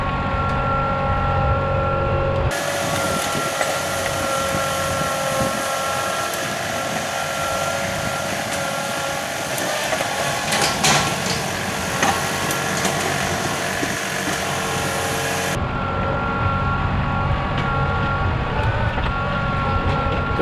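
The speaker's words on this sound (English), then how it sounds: "There's something kind of satisfying about bringing in a load of dirt like this and scraping it off the ground there." Tractor pulling a King Kutter box blade to scrape a load of dirt, a steady engine drone with rising scraping noise in the middle that fades back to idle, continuous and fairly close, no talk.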